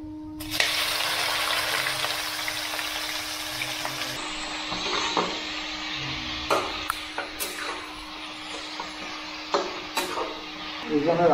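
Chopped onions drop into hot oil in a pot for biryani, giving a loud broadband sizzle that settles into steady frying with clinks of a stirring spoon and a faint background hum.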